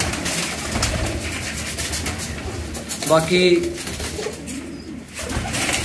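Golden pigeons coo at a loft, a soft low burbling call rising briefly mid-clip amid a steady background murmur, with someone talking over it.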